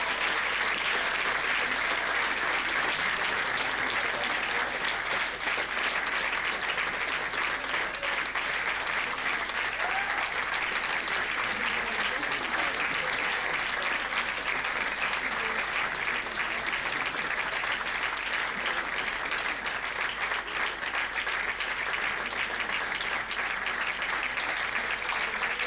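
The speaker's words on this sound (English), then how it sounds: "please a lot of applause. Welcome them on stage." Sustained, dense audience applause fills a TEDx event hall as speakers are welcomed on stage, steady and loud throughout with no pauses.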